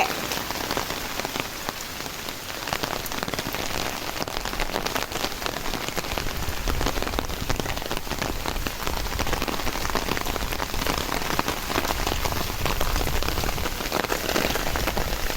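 Steady rain patters on a rooftop garden, a dense even hiss of drops on a hard surface with no talking, constant from start to finish.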